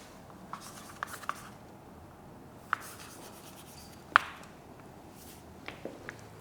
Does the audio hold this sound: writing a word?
yes